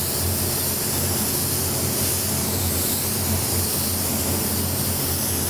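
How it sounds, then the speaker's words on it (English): An Iwata WBX spray gun with a 1.3 nozzle hisses continuously up close, spraying an even paint coat, a steady airy rush with no pauses. "It's a great gun for spraying this product."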